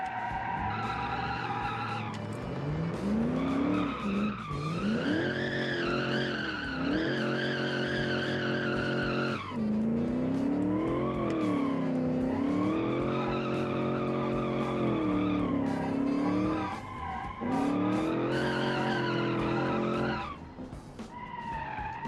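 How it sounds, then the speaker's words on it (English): The Picard Piranha, a car built in the Automation game, spins its wheels with a long, loud, continuous tire squeal that wavers in pitch over a roaring engine, pausing briefly only a few times. "Once you get the wheels spinning, it's a one-tire fire for a long time"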